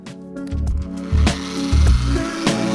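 Car polisher working C4 compound into scratched, swirled paint, a close motor hum that rises and falls in repeated surges as the pad is pressed and moved, with no talking.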